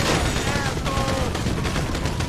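Rapid gunfire in the video game GTA V during a bank robbery mission, dense and loud repeated shots in quick succession over a constant noisy background, with faint voices mixed in.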